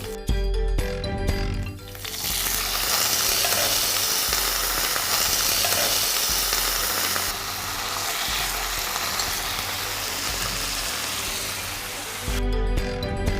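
Green chillies and cut vegetables fry in a pan with a loud, steady sizzle that runs nearly throughout, with a brief lull near the start and a stirring clatter at both ends.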